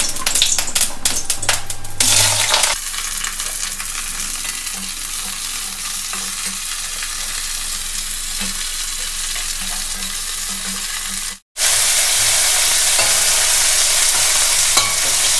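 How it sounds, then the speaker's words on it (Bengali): Bitter gourd frying in very hot mustard oil, a loud, continuous sizzle and crackle close up, with clattering stirring early on and a brief silent gap near the end. "এইবার আমি প্রথমে উচ্ছেগুলো একটু ভেজে নেব।"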